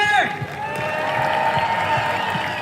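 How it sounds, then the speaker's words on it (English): A crowd at an outdoor rally in support of Ukraine applauds and cheers, with steady clapping and scattered whoops building after a brief shout. Voices carry over the noise. "Let's give a round of applause"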